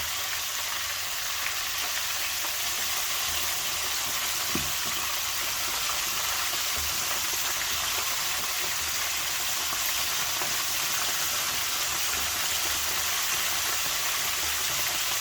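Chicken pieces frying in a pan for a zinger burger, a loud, dense, continuous sizzle that holds evenly throughout with faint crackles.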